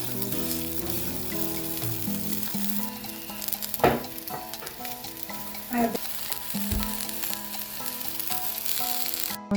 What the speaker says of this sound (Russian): Включили еще маленькие сковородки